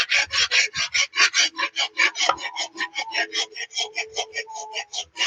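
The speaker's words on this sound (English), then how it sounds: "we can take off with a needle file and smooth everything out" A needle file smooths the rough drop-forged steel of a Friedr Herder straight razor blade, giving a rapid run of about twenty scratchy rasping strokes in a steady back-and-forth rhythm, close and clear with no talk.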